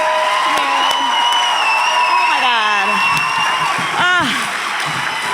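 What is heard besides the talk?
audience applause and cheering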